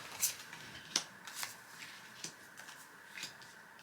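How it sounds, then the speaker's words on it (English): Park cards for a national parks board game are shuffled in a quiet room, giving several soft, separate riffling bursts spread across a few seconds, close and without speech. "Then take the park cards, shuffle them, and we'll place them face down near the board."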